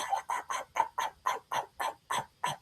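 A hunter's voice imitates a fast, excited turkey yelp on a call: about ten quick, evenly spaced yelps in a steady rhythm, close and clear, with no talking.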